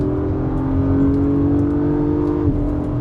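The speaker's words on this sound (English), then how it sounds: "So full throttle, oh, sounds great, and it rips." A powerful Acura MDX Type S engine at full throttle, a loud steady roar climbing in pitch before a quick shift near the end, with no talking.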